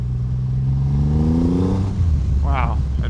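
A 2024 Triumph Rocket 3 GT Storm, a large, heavy, high-torque motorcycle, accelerates hard with a loud engine note climbing steadily in pitch for about two seconds before easing off, followed by a brief voice-like sound.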